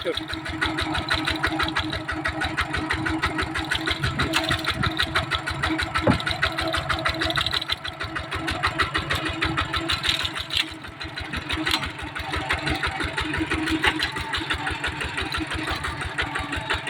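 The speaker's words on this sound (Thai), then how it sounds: "ขับรถไถ" A walk-behind tractor engine runs steadily with a fast, even chugging throughout, loud and close on a rough rural road to a rubber plantation, with no pause in the running.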